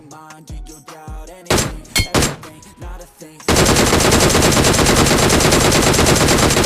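After a stretch of varied, punchy in-game tones and thuds in BGMI, loud, dense, continuous gunfire starts abruptly and fills the rest of the clip.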